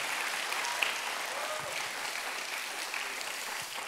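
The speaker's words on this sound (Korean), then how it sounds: "함께 박수하겠습니다" A church congregation at a Friday evangelism school in Daegu claps together in a steady, even wash of applause at moderate volume, continuing unbroken with no speech on top.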